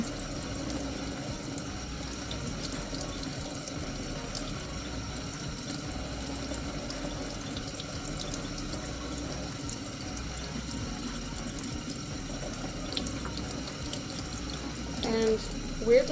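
Tap water runs steadily into a sink as a cyanotype print is rinsed, a constant close hiss through the whole stretch, with a few brief handling knocks near the end.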